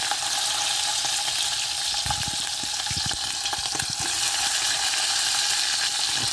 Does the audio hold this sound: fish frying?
yes